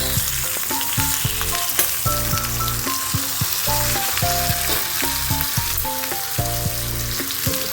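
Whole tomatoes roasting in a hot pan, skins loosening, with a constant loud crackling sizzle, intermittent popping, and tonal scraping from stirring throughout.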